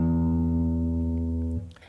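Low E tuning note on guitar: a deep, rich sustained tone held close and loud for about one and a half seconds before cutting off abruptly, with no speech.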